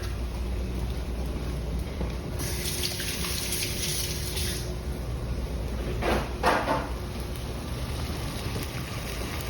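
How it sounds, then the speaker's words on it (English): Tap water runs into a sink while hands are washed, a steady close hiss of flowing water with a few louder splashing surges partway through. "I'm gonna go wash my hands real quick."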